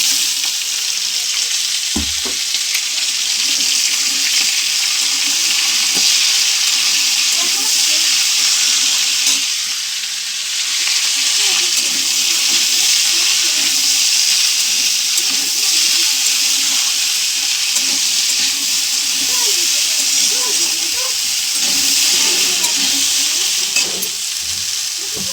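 Beans, potato, carrot and cauliflower dropped into a hot frying pan, bursting into a loud, continuous, close hiss of frying that holds steady throughout, with faint stirring underneath and no talking.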